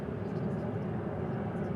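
A passenger airplane passes at Dallas/Fort Worth airport, a steady, broad engine roar holding at an even loudness for the whole moment with no clear rise or fall.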